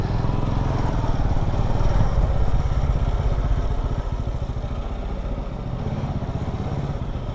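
Motorcycle engine idling close by at a parking spot, a steady low rhythmic putter that holds throughout and eases slightly in level partway through.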